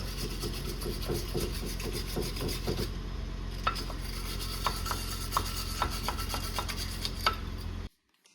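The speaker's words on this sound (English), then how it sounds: "go at it with the wire brushes just to clean up all the carbon, the brake dust and whatnot" Wire brushes scrub carbon and brake dust off the brakes of a Ford Focus XR5/ST225. The scrubbing is close and rasping, with repeated strokes and sharp scraping accents in the second half, then it stops.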